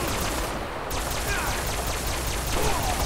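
Rapid energy beam weapon fire in Fallout 4, a dense, continuous crackling rattle of shots sustained throughout at steady close range, with no talk over it.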